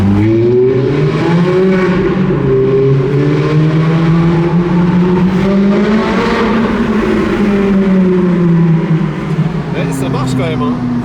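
A Ferrari Challenge Stradale engine revving on the streets of Monaco, a loud, close, rasping drone that rises and falls with gear changes and throttle blips, heard from inside the car while occupants chat over it.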